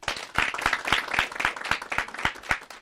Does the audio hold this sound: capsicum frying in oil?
no